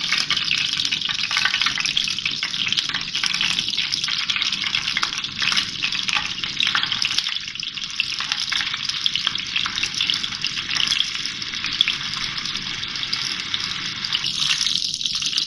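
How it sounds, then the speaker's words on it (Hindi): Beef masala kababs sizzle in hot oil for a Bakra Eid meal, a steady, close crackling hiss that runs unbroken and alone with no voices. "ये कबाब मैंने फ्राई कर लिए, इसी तरह से मैं और भी कर लूँगी।"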